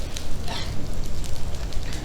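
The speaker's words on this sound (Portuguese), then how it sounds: "Olha o fogo queimando." A crackling fire beside which stories are told, burning with loud irregular pops and snaps over a dense rushing hiss, close by.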